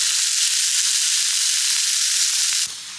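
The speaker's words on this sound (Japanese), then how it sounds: "ぐつぐつぐつ。 鍋つゆ。" Hotpot broth bubbling and sizzling in a pot at a snowy winter campsite, a steady close hiss that cuts to a quieter simmer near the end.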